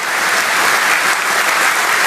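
Loud, dense applause and cheering from a packed crowd at a Brexit Party rally in Durham, a continuous roar of clapping that holds steady throughout with no speech over it.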